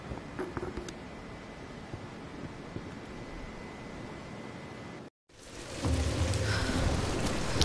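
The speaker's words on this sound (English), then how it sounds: "We're getting closer to the storm." Steady hissing rain pours during a storm in the Tomb Raider video game, cut by a brief silent gap before it returns louder and fuller with low rumbling, thunder-like weight.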